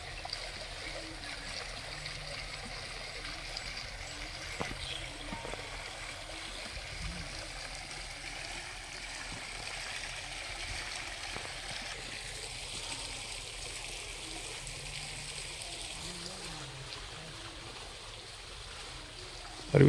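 Steady rushing and trickling water cascading down steps at the Aliyar Arivuthirukoil temple, a continuous splashing flow with no voices, moderately distant and even in level throughout.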